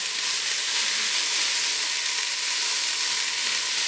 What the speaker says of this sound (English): So now I'm going to let this saute.